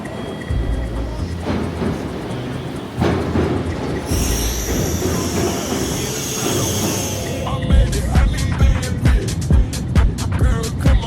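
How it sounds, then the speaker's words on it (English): Onboard a Shinkansen Nozomi Super Express bullet train, a steady low rumble of the moving carriage mixes with a high wheel squeal in the middle. Irregular clicks and knocks sound near the end. "Welcome to the Shinkansen. This is the Nozomi Super Express."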